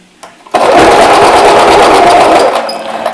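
A sewing machine starts after a brief pause and stitches in a loud, rapid, steady whirr for about two seconds before slowing and stopping.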